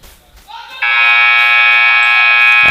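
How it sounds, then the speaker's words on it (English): A loud, sustained electronic buzzer blares in a nearly empty school gym before tip-off of a girls' basketball game, rising from quieter background sound into a continuous steady tone that holds to the end. "as the buzzer goes off."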